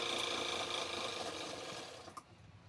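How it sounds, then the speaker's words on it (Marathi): Rapid mechanical whir of a sewing machine stitching a belt for a dress made from a Paithani saree, running steadily close up, then slowing and stopping near the end with a soft click. "या ठिकाणी मी बेल्ट शिवून घ्यायला लागले आधी"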